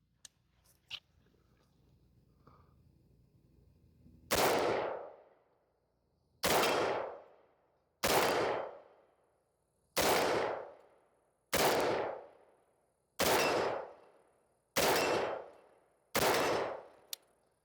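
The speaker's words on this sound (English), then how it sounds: "Every shot right on steel at 200 yards at 6 power." Eight loud rifle shots from a 1-6x LPVO-equipped rifle aimed at steel targets 200 yards away, each a sharp crack with a decaying tail, fired at roughly two-second intervals after a quiet stretch with a few faint clicks.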